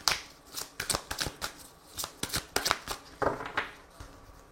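Tarot cards are shuffled by hand in a rapid series of crisp riffling slaps and flutters, close up and steady for several seconds with short pauses between bursts.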